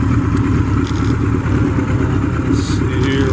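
A one-owner original 1974 Kawasaki Z1 motorcycle engine runs steadily nearby, a dense low rumble with clattery mechanical texture throughout, loud and continuous with a voice talking over it.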